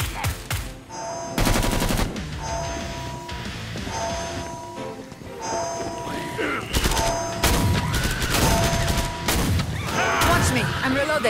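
Rapid bursts of gunfire in the co-op shooter Killing Floor 2, with repeated heavy volleys, metallic pings and chimes layered over game effects and chaotic combat noise, loud and continuous.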